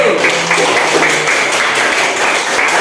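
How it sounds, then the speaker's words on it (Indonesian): A classroom of students clapping together in steady, dense applause that fills the room, close and loud, with some voices mixed in. "Tepuk tangan dulu."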